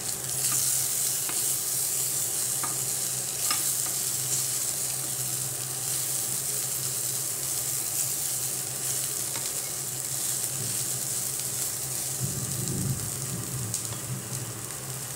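Eri silkworms frying in a pan, stirred steadily through a constant loud sizzle and hiss, with a brief louder scrape of stirring near the end.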